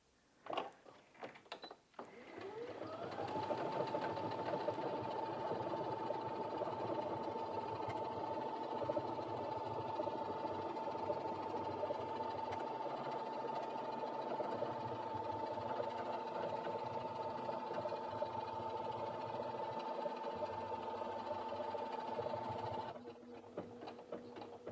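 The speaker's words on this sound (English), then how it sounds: "let's stitch out the word brother" A Brother Innov-is F560 sewing machine stitches out a word in continuous lettering, a steady whirring hum with a sustained tone that runs nearly unbroken for over twenty seconds after a brief start-up.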